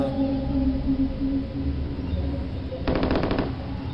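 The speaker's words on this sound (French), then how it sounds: "entend les tirs, mais je vois rien" A short rapid burst of gunfire in the beta of the game Killing Time cuts in near the end, a quick rattling string of shots over a steady droning game background.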